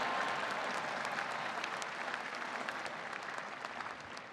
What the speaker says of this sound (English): Applaud for Joe.